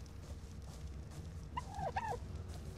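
A duck in the Ark Ragnarok game gives a short run of quacking, gobbling calls, two quick bursts near the middle, faint over a low continuous background hum with no talk.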